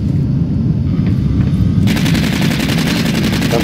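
Rapid machine gun fire in the Aliens: Colonial Marines video game rattles loud and continuous, sharpening into a dense burst of shots partway through.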